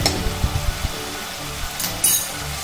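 Ginger garlic paste frying with onion and tomato in a pan: a steady, close sizzle with stirring scrapes and a brief louder hiss near the end.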